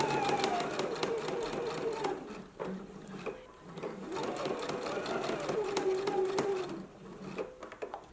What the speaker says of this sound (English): We're going to pin these at the shoulders as well and go ahead and stitch them now.